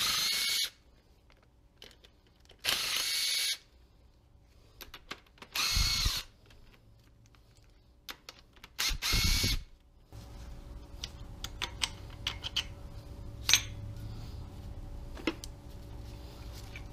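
Hand ratchet bursts while removing the engine bearing caps from a Chevy with a broken crankshaft and spun bearing, several short loud clicking runs separated by pauses, close up in a quiet shop with no talk.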